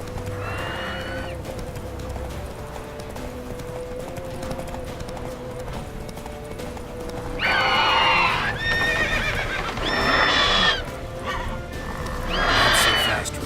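Roach the horse gallops in The Witcher 3, with steady clip-clopping hooves running throughout and several loud whinnies and neighs bursting in during the second half.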